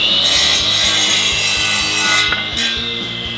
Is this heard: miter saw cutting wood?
yes